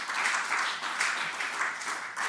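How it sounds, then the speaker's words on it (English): A congregation at a Shabbat service applauds steadily, a dense wash of many hands clapping that carries evenly through the whole stretch without pause. "Let's give Lisa Edwards a round of applause."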